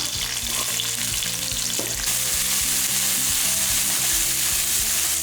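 Shallots, garlic and cumin frying in a pan for a dry fish curry, giving a loud, continuous close sizzle with stirring and spoon clatter throughout.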